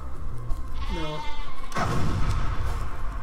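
A cartoonish sheep weapon bleats in the video game Worms Armageddon, a wavering bleat followed by a loud explosion-like burst, amid dense game noise.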